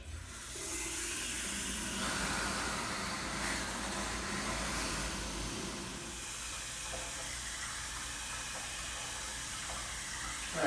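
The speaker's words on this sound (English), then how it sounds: "now that I'm just topping the tank off here" A garden hose fills a Road Shower water tank on an overland camping setup, making a steady close rush and hiss of running water that continues without a break throughout.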